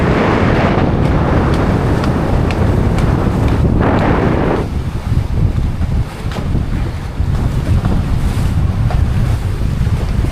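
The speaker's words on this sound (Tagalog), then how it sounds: "Lakas kasi yung hangin." Strong wind roars steadily across the microphone on a boat at sea in bad weather, with heavy gusts buffeting it over the rush of open water and waves.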